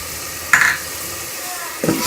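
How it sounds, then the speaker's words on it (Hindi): Garlic paste frying in a pan with tomatoes and green chillies for a potato and spinach curry: a steady, loud sizzle with two bursts of stirring scrapes, no talk. "ये लहसुन का पेस्ट भी इसके अंदर डाल दूँगी।"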